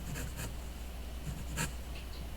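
Soft pencil strokes scratch across paper while a drawing is sketched, coming in a few short, faint bursts over a steady background hiss.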